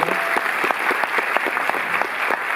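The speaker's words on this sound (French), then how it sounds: "On peut l'applaudir, Annick" A cinema audience at a Paris film retrospective screening gives sustained applause, dense overlapping clapping from many hands at steady loudness with no talk over it.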